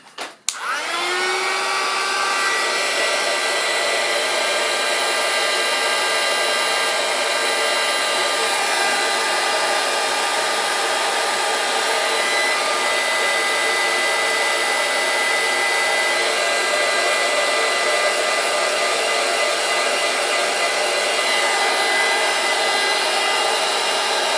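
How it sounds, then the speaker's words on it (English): A hair dryer blows steadily to dry a skeletonised leaf, switching on with a quick catch and then roaring loud and unbroken at close range with no talking. "So I'll just give this a quick blast just to dry it off."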